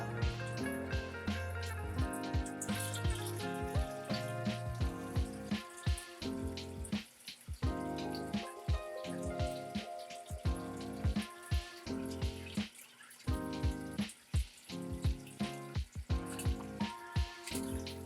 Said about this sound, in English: So the water is getting pumped through the pump into the tube and into this tank.